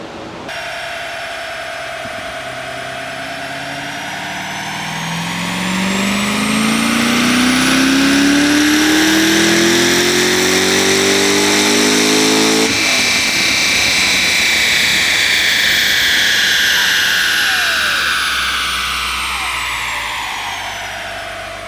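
Chevrolet 6th-generation Camaro SS engine revving hard on a chassis dyno, pitch sweeping steadily upward through the gears as it climbs to a loud sustained roar, then easing off and winding down near the end.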